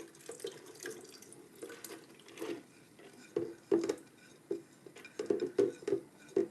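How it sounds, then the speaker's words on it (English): Soaked mung beans go into a pot together with their soaking water, giving faint splashing and sloshing pours in irregular bursts, with a few sharper clinks and spatters toward the end. "I'm going to go ahead and put them in with the soaking water"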